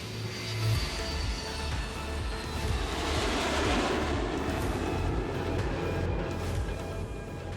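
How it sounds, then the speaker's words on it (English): A Boeing 747 takes off from JFK with a broad, sustained jet roar that holds steady and loud throughout, dense rumbling low end with a hissing wash above. "you have a 747 taking off from JFK"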